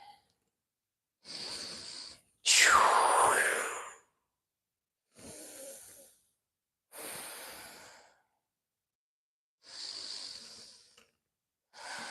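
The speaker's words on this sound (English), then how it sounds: "Breathing in." Slow, deep breaths taken during a qigong exercise, heard close and alone: a series of separate breathy inhales and exhales with silent pauses between them, one breath much louder than the rest.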